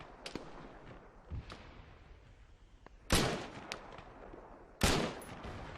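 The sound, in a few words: Mk-1 EMR rifle shots in video game Arma 3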